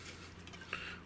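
Lamp oil is stirred in a container to soak a wick for a homemade oil lamp, giving a very faint, close, brief rustle with a small clink partway through.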